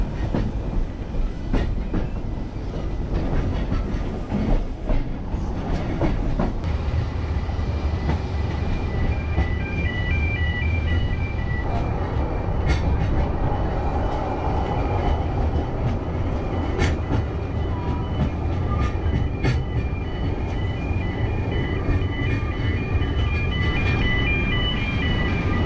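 A double prairie 2-6-2+2-6-2 steam locomotive with four pistons on the Welsh Highland Railway, its rumble and rail clatter continuous and fairly loud throughout, with faint whistle-like tones over steady train noise.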